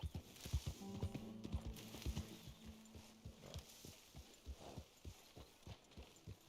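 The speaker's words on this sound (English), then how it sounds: "Get that horse out of here." Horse hooves clip-clop at a steady walking rhythm in Red Dead Redemption 2, faint and even, with a brief tonal horse call early on.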